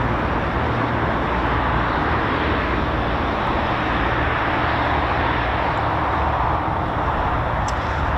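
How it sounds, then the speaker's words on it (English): Beechcraft Shadow aircraft at RAF Waddington, a broad continuous engine and propeller roar, loud and steady throughout with no talk. "So with the Beechcraft Shadow here, and this one's based here at RAF Waddington."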